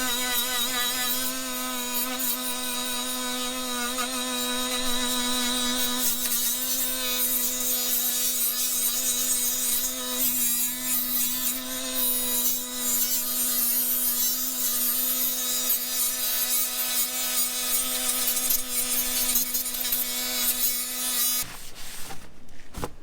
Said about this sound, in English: You can see that it does take off quite a bit of material at a time, and these wheels actually work great.